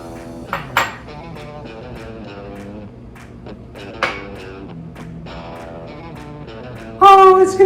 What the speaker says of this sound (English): So just put everything inside this bowl.